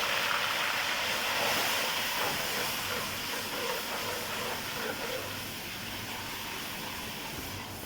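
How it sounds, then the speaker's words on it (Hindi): Garlic-ginger paste hitting golden fried onions in a hot pan, giving a loud, dense, continuous hiss that tapers slightly over several seconds, heard alone without talking. "अब इसमें मैं लहसुन अदरक का पेस्ट शामिल करूँगी।"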